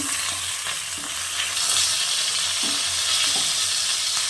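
Rui fish frying in a pan until red and crisp, a continuous close sizzle with spattering crackles and no voices over it.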